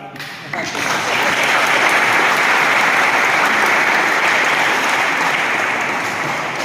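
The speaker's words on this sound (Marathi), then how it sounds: "खूप जोरात टाळ्या झाल्या" A crowd gives loud, sustained applause at a National Sports Day felicitation at a sports complex, dense clapping rising within the first second and holding steady throughout, close and without talk.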